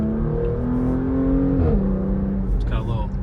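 A 2025 Porsche Macan S engine in sport mode hums and revs, its pitch rising and dipping with a throaty growl, heard from inside the vehicle.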